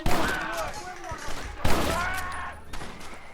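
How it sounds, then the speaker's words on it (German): Gunshots ring out in the Western video game Red Dead Redemption, with sharp bursts near the start and again midway and late, loud and close over a busy game soundscape with speech-like tones mixed in. "Einfach mal auf die Frau schießen"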